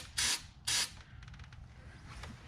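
A spray bottle gives two short, sharp hissing sprays in quick succession, close and loud, followed by quieter mechanical clicks, with no talking, during an oil-change check on a 2016 Ford F-150.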